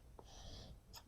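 A single soft, breathy sneeze, faint and brief, with a hissing exhale and a small sharp burst at the end.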